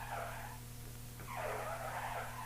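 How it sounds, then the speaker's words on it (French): Foley car-skid effect made by rubbing a water-filled hot water bottle against metal, giving two squealing skid bursts, the second longer and louder, over a steady low hum. "de quoi faire un dérapage de voiture"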